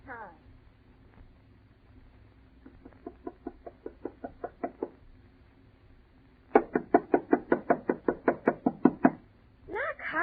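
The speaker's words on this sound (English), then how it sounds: "Knock harder, Alice." Knuckles rapping on a house's front door in a radio drama, a quiet run of about ten knocks, then a louder, faster second burst of around a dozen sharp knocks, with voices around them.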